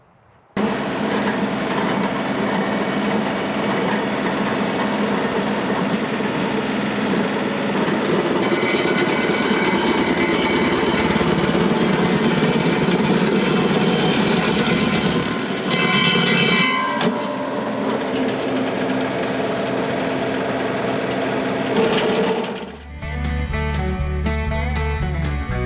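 Stump grinder with carbide teeth runs loud and steady for over twenty seconds at an orchard, its grinding roar shifting in pitch as it bites, then briefly dropping before resuming with a choppier rattle.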